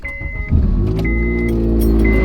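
Cabin interior of a moving car, a steady low engine and road rumble building slightly and holding throughout, with a faint recurring high tone and no talking.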